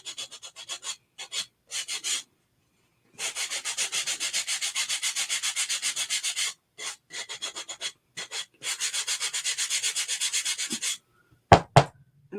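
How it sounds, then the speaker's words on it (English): A small hand sander rubs along the edges of a wooden block to distress them, a rough scratchy grinding in bursts of back-and-forth strokes separated by short pauses, close and loud, ending with a few hard knocks. "I really like this little sander"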